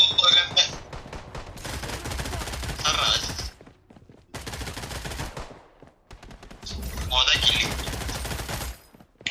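Gunfire in the Blood Strike shooter game, rapid automatic bursts in long loud runs separated by short gaps, with players talking over the shooting.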